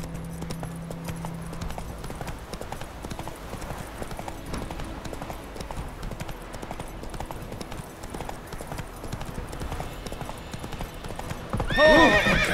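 Horse galloping in The Witcher 3 video game, a fast steady clip-clop of hooves throughout, ending in a loud close neigh near the end.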